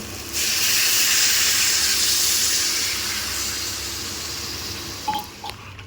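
Water being poured into crab curry cooking in a pan, a loud rushing hiss and splash that starts suddenly, then gradually softens to a steaming fizz with a few small knocks at the end.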